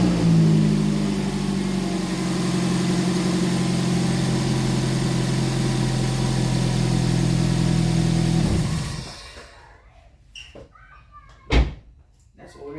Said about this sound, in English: Neutral, switch the engine on.